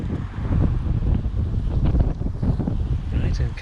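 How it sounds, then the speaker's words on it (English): Gusty wind buffeting across an allotment garden, a loud continuous low rumble of blustery air pressing on the microphone, with a person speaking faintly underneath. "It's quite blustery today all of a sudden."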